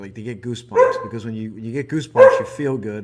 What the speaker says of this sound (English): that's my dog, so I apologize for that